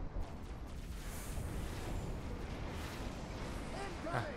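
A grenade explosion in Halo: Reach sounds as a deep, sustained rumbling blast within steady gunfire and battle noise, fairly quiet overall with a muffled, distant character.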